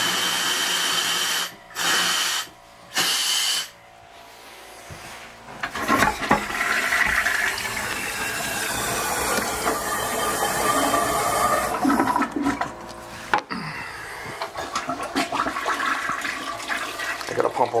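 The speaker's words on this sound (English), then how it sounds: "I got the compressor set at 60 pounds outside, so it's gonna keep pumping that air 60 pounds through the system" Rushing, hissing water and air gushing through household plumbing pipes as a compressor at 60 psi purges water for winterizing, starting in short bursts then turbulent and sustained, loud and close.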